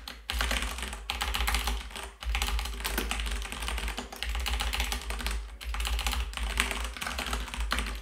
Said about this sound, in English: I hope that you can still hear me talking over the keyboard